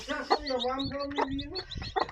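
A hen clucks close by in a short run of throaty calls while calling her chicks, with a few sharper clucks toward the end.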